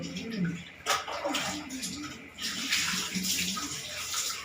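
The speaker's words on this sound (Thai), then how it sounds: "ล้างหน้าก่อนนะ" Water splashing and running steadily as a face is washed, a continuous close wash of trickling and splashing, with a voice speaking briefly over it.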